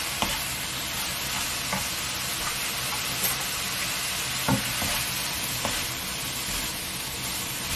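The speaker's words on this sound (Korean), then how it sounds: "이거 슬쩍 볶겠습니다." Enoki mushrooms with trimmed bases are stir-fried in a pan, giving a steady sizzle with intermittent scraping and tapping strokes of the spatula, close and moderately loud, with no talking.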